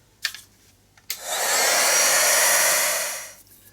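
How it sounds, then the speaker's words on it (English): A heat gun blows hot air to dry a mixed-media art journal page, a steady loud whooshing roar that starts abruptly after a couple of light taps and runs for about two seconds before cutting off. "Give it a second or two and then I can get the heat gun on it."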